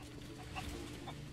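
Chickens, including red hens, cluck softly in short scattered calls against a steady low hum of outdoor background noise on an island, faint and fairly distant with no talking.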